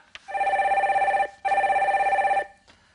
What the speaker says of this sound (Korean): 첫 번째 전화 연결 바로 들어가겠습니다.